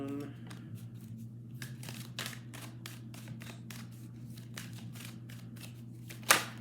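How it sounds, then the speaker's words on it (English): Tarot cards are shuffled in quick riffling bursts close by, a soft papery flutter repeating, ending with a sharper snap. "when you're shuffling, even if you can't see the cards"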